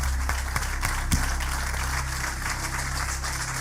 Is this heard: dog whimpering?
no